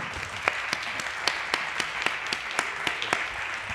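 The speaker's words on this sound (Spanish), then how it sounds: "Vamos a aplaudir al autor." At a book presentation for a crime novel, an audience applauds the author with steady clapping, marked by distinct louder claps that fall in a loose, regular rhythm.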